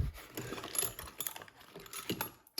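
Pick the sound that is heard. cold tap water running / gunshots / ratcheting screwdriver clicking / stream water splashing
ratcheting screwdriver clicking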